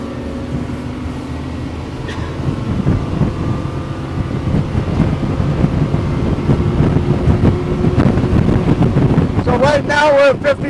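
A 2024 Bennington 30QX pontoon boat with twin Yamaha 450 XTO outboards running at about 50 mph into a turn: loud steady engine roar and wind rush, with someone talking over it.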